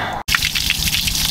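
Water from a garden hose runs through an inboard boat engine flusher, giving a steady close gushing and dripping splash that stops for an instant early on, then continues evenly.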